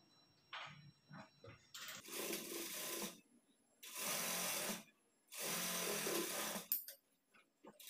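A sewing machine stitches a straight seam on a blouse, running in three bursts of a few seconds each, separated by short pauses with faint handling noises.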